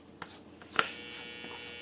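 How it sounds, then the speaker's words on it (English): A clothes dryer buzzer drones a sustained electronic tone over a quiet room, starting abruptly after a couple of faint clicks and holding steady at moderate volume. "You'll have to excuse my dryer buzzer in the background."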